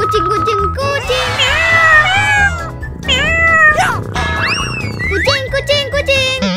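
Loud, repeated cat meows, high and drawn-out, rising and falling over a steady rhythmic music bed with no talking.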